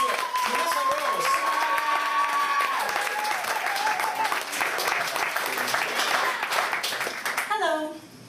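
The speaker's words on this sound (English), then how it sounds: "Jetzt könnt ihr wieder applaudieren." An audience at a poetry slam claps steadily, dense continuous applause throughout, with a speaker talking over it before the clapping dies away at the end.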